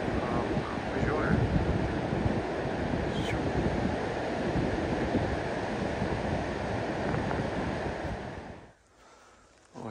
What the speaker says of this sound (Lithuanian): O ten jūra yra.